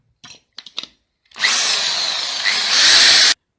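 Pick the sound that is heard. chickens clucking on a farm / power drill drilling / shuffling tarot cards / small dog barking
power drill drilling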